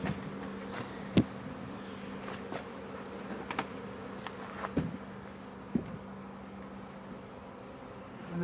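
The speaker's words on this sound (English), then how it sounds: "that is a lot of bees down there" A large swarm of honeybees buzzing in a hive box, a steady low drone with a few sharper buzzes and light knocks and rustles over it.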